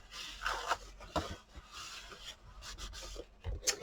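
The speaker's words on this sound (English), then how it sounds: "I can go ahead and burnish this down" A glued paper seam on a handmade Christmas candy holder is burnished down with soft, close rubbing strokes, repeated several times in a few seconds.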